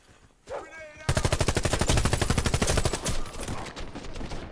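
Rapid automatic gunfire in a shooter video game, a dense, loud burst of evenly spaced shots lasting several seconds after a short spoken call, then tailing into rougher shooting and game noise.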